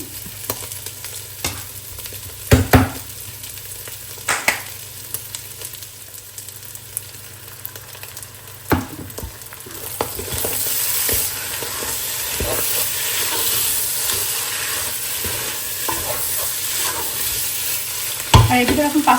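Minced meat (keema) frying in a pan while being stirred, a steady close sizzle and hiss that swells louder midway, with occasional sharp scrapes and knocks of the spatula against the pan.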